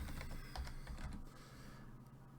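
Quiet close-up typing on a computer keyboard, a quick run of soft key clicks that trails off after about two seconds, with no voice.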